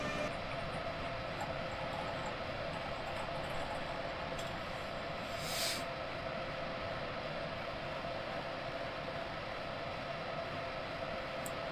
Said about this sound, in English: People on the station are just looking at the train coming in